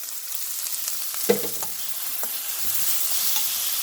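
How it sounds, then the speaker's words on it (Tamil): Tomatoes and salt sautéing in a pan for a kovakkai (ivy gourd) dish, with a continuous close sizzle and occasional stirring scrapes, a brief clunk early on, no voices. "நல்லா வதங்க விடுவோம் தக்காளி பழம் நல்லா கரைஞ்சி கட்டும்"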